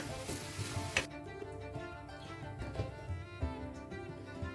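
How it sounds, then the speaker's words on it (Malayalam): Hot tempering with browned onions pours into a shark fish curry, giving a burst of loud sizzling that quickly settles into quieter bubbling and crackling, with faint stirring clatter behind a background musical tone. "നമുക്കിതൊന്ന് കറിയിലോട്ട് ഒഴിച്ചു കൊടുക്കാം."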